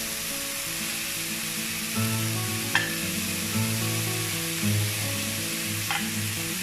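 Onions sizzle steadily in a pan with browned meat for buckwheat with meat, a continuous hiss with occasional stirring scrapes, close and even throughout.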